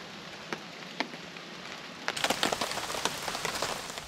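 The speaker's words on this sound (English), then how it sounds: "noticed the rain was coming" Rain falls on a campsite with a tarp stretched over the campfire, a soft steady patter with scattered sharper drops that thickens into a denser, louder shower partway through.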